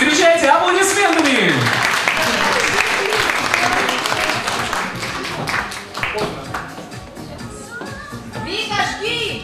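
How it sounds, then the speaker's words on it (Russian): A festival audience claps for a young performer from Moscow, steady applause lasting several seconds with a voice and some cheering mixed over it before it thins out. "Встречайте аплодисментами!"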